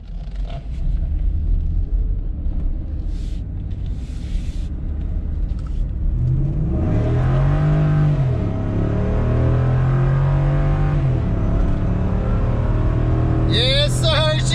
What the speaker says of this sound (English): This is like the preliminary, basically like the first drive of this truck.